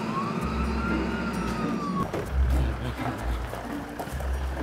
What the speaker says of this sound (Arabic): اسعاف. اسعاف.